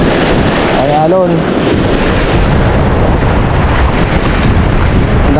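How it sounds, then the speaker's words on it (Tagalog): Waves at sea wash against a small fishing boat in a constant, loud roar mixed with heavy wind buffeting the microphone, with no clear pauses throughout. "Ay, alon."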